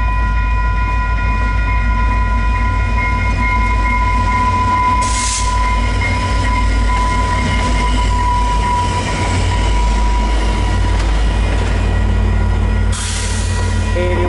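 A VIA Rail passenger train thunders past a level crossing on a winter night, a loud continuous rumble of wheels and cars close by, with brief bursts of horn or squeal rising at two moments.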